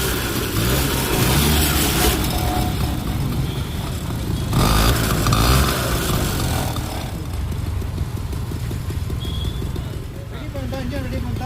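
A 1986 TVS XT motorcycle engine starts and runs with a rough, uneven rumble, close and loud, while someone speaks over it throughout.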